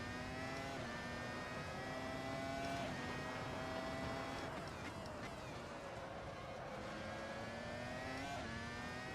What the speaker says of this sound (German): Vor allem die Motorsounds tun wirklich sehr, sehr geil.